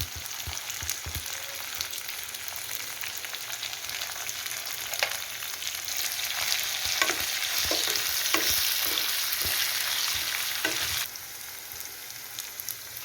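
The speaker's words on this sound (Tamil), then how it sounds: "சின்ன வெங்காயம் பூண்டு ரெண்டுமே நல்லா பொன்னிறமாகிற வரைக்கும் வதக்கி எடுத்துக்கோங்க" Shallots and garlic sautéing in a pan for Chettinad vatha kuzhambu, a steady sizzle with repeated spatula scrapes and taps, swelling louder midway then easing off, no speech.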